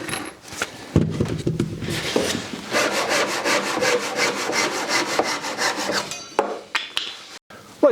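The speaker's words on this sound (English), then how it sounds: "So I just need to cut that miter right there." A hand saw cuts a miter in 2x4 timber for a workbench frame, with rhythmic rasping strokes that speed into a fast steady run. It is close and loud, and a few knocks come before and after the cut.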